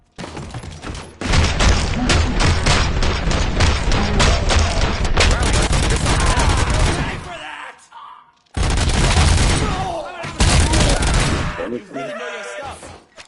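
Dense gunfire from a RoboCop: Rogue City shootout pours out in long loud bursts, breaks off for about a second, then resumes in a second volley before tapering off.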